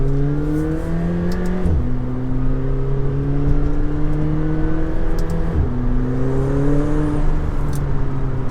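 McLaren 720S accelerating hard from inside the cabin, engine note climbing steadily through two quick upshifts with the pitch dropping at each change, loud and continuous without talking.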